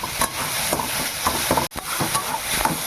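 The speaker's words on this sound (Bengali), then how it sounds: "টমেটোটা একটু নরম হোক, ভালো করে বন্ধুরা খুন্তি দিয়ে ঘেটে নেব" A spatula scrapes and stirs tomato gravy in a frying pan over a soft sizzle. The strokes come in a steady rhythm, close and clear, with no voices.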